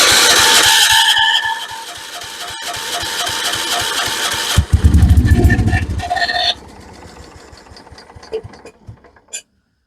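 Kohler K301 engine on a 1976 Vermeer LS200 log splitter fires up, runs roughly for a few seconds with a loud low rumble, then sputters and dies away into near silence.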